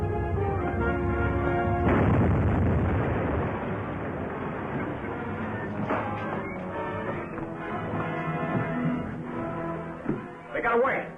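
A heavy explosion from a 1945 film serial, a sudden loud boom and rumbling crash with debris clattering afterward, mixed with dramatic music and voices from the soundtrack.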